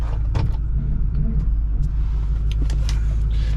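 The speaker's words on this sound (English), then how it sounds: "Let's go for a drive and see if we get all the gears" A 2008-10 Ford Super Duty with a Powerstroke diesel and a swapped transmission drives along, heard from inside as a steady low rumble of engine and road noise, with a few faint clicks and knocks.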